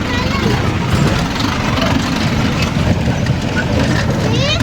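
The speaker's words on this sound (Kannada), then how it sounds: "ಇನ್ನೊಂದು ಜೀಪ್ ಬಂತು." A jeep arrives and runs its engine at a hill spot where only the operators' jeeps are allowed, a steady close rumble filling the whole stretch with constant road and engine noise.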